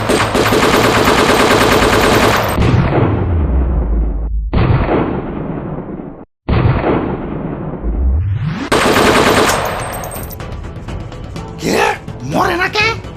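Rapid cartoon machine-gun fire blasts in long bursts with sweeping effects, broken by brief gaps, followed by scattered pops and short cartoon voices near the end.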